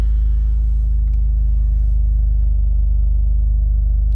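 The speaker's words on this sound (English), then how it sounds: "So a nice little sort of rumble on the interior." Low, steady engine rumble of a 2023 Toyota GR Corolla idling in neutral, heard from inside the cabin, a constant deep drone with no speech.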